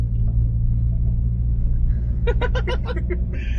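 A turbocharged AWD Honda Element on large tires accelerating in first gear, a steady deep engine rumble with a low droning tone inside the cabin, and a short burst of chirping or squealing near the end.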